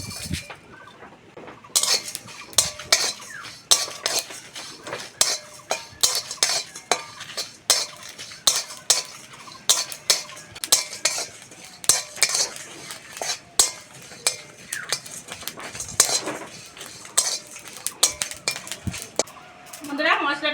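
Spices dry-roasted in a pan for a homemade raw mango pickle, with repeated loud scraping and clinking of a utensil against the pan in a steady rhythm throughout, close by.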